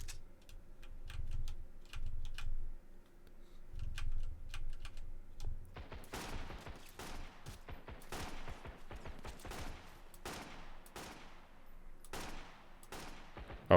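Rapid gunfire in the survival video game Sunkenland, including shots from a sniper tower: a fast, dense burst of sharp cracks and rattling shots after a quieter stretch with low rumble and faint ticks.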